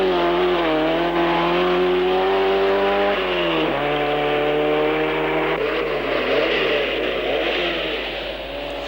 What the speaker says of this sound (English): Turbocharged cars started in the first 6 positions